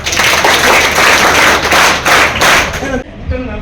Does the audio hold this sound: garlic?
no